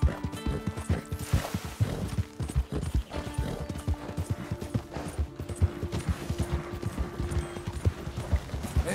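Horse hooves clip-clop steadily in Red Dead Redemption II, a continuous rhythmic trotting of close, distinct hoofbeats with occasional faint snorts and game background sounds.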